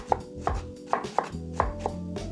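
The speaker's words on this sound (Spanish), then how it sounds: "vamos a picar medio diente de ajo, media cebolla blanca y un cuarto de pimiento rojo" A knife chops garlic, white onion and red pepper on a board, giving about six distinct, fairly close strokes at an uneven pace with soft scraping between them.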